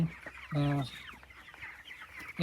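A 23-day-old chicken gives a short, close cluck against a quiet farmyard background with soft rustling.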